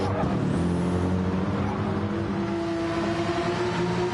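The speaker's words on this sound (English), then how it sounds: "the sound of that turbo." A turbocharged race car engine drones steadily during an endurance race, a constant, sustained roar with no break in pitch or level.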